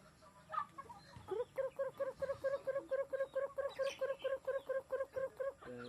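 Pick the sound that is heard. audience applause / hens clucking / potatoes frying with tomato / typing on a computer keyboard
hens clucking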